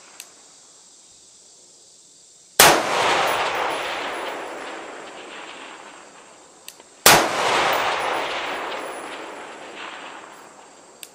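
Two loud rifle shots from a large-caliber rifle during test firing outdoors, each a sharp crack followed by a long rolling echo that slowly fades, spaced about four seconds apart.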